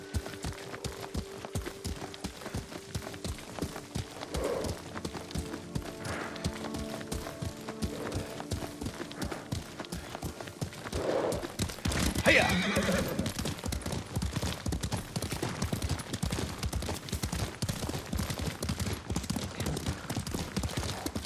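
Horse hooves clip-clop at a steady gait while riding in the samurai game Ghost of Tsushima, joined by a horse neighing partway through, with game music and ambient sound beneath.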